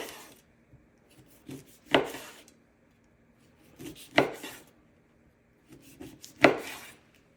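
A very large knife slices through a tube of Nestle Toll House cookie dough, three firm cuts landing at steady intervals, each a close thud against the board with soft rubbing between.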